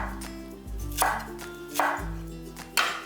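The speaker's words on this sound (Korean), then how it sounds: "파는 어슷 썰어주세요." A knife slicing green onion diagonally on a cutting board, three crisp chops spaced about a second apart, close and clear with no talking.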